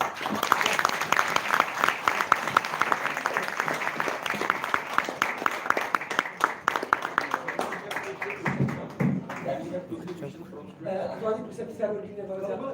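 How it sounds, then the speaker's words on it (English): An audience at a formal talk by a visiting governor applauds with steady, dense clapping that goes on for several seconds, then fades as talk takes over near the end. "That's why you need to be clapped for."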